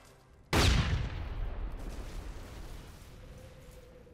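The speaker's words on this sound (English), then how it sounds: "managed to blow up the barrels there" A grenade sets off flammable barrels in the Starship Troopers game on the Compound mission: one sudden, loud explosion bursts after a brief quiet, then decays into a long, rumbling roar of fire that slowly fades.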